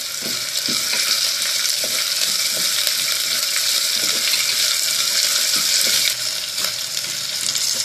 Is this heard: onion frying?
yes